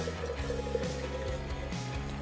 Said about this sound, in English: I am using a glass container and pouring some water into it.